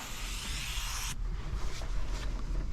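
A steady hiss of a spray bottle misting water onto a Toyota 4Runner rear window during window tinting for about a second, then it cuts off, leaving quieter background rustle.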